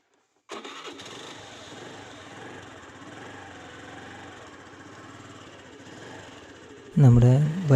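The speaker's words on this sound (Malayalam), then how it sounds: "നമ്മുടെ ബൈക്ക് സ്റ്റാർട്ടായി." Motorbike engine cranking to life after half a second of silence, then running at a steady, close idle, with a short loud burst of voice near the end.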